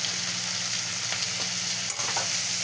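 Chopped onion frying in a pan after chopped garlic for a chicken mushroom pasta: a steady close sizzle with a few light stirring clicks and one sharp scrape.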